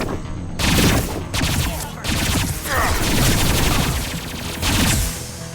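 Loud, sustained gunfire in a Mass Effect 2 combat scene, with bursts of rapid shots in waves over heavy battle noise, close and continuous throughout.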